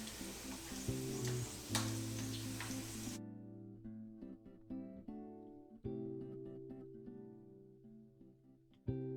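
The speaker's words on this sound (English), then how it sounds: "gonna add that to the skillet with the bacon and the peas and the mushrooms and the garlic" Ingredients tipped into a hot skillet already holding bacon, peas, mushrooms and garlic, giving a loud burst of sizzling that soon settles into a steadier, quieter fry with a few scrapes and clinks.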